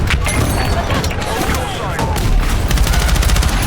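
Grenade-launcher explosions booming one after another in the video game Battlefield 6, loud and continuous, with dense gunfire crackling through the whole stretch of battle.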